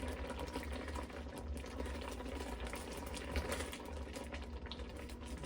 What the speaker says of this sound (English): That's what I mean by a full rolling boil.